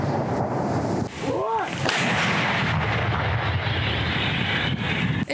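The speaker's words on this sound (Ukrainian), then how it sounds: "Екіпаж танкістів здійснює постріл за пострілом." A heavy tank cannon blast booms loudly, followed by sustained rumbling and echoing roar, with wind buffeting the microphone, near Bakhmut in Ukraine.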